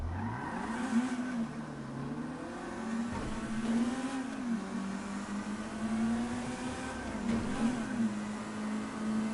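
Stock Russet car idling in the video game GTA V, a steady low engine drone whose pitch wavers gently up and down, heard alone without speech.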